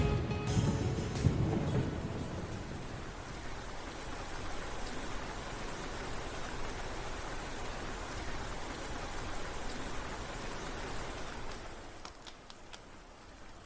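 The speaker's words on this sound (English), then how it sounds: "the rain has come." Steady rainfall in the video game Trails of Cold Steel 4, a continuous soft hiss of rain with a low rumble near the start, easing off toward the end.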